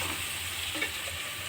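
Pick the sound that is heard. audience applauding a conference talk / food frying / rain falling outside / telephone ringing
food frying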